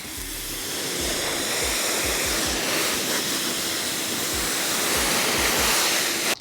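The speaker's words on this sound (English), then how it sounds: "Let's go ahead and rinse it." Water sprayed to rinse a boat seat during detailing, a loud steady rushing hiss close by, with low thumps underneath, running throughout.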